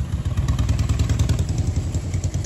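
A motorcycle engine idles close by with a loud, pulsing rumble that throbs rapidly and evenly.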